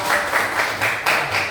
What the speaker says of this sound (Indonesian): Tepuk tangan untuk negara.